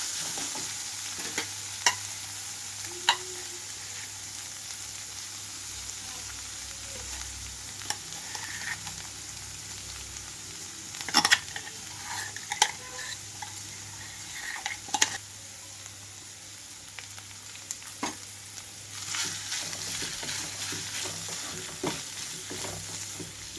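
Chili powder being stirred into cauliflower frying in a pan over low flame, with a steady sizzle beneath scattered scraping clicks of a spatula against the pan throughout.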